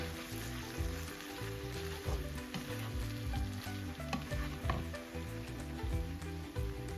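Bacon frying in a pan with a little water added, an even crackling sizzle throughout with sparse pops, close, with a low rhythmic background hum underneath.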